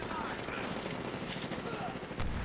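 Sustained automatic gunfire crackles through a Sector Control multiplayer match in Medal of Honor Warfighter, a dense rapid rattle that runs steadily throughout at moderate distance while a voice talks over it.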